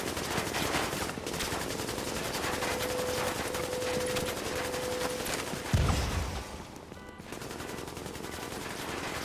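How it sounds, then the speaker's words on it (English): Continuous automatic gunfire in Tom Clancy's The Division, an unbroken, rapid barrage of shots running for over five seconds, with a heavy low thump midway and the volley thinning briefly before it picks up again. "This guy's not going to stop shooting."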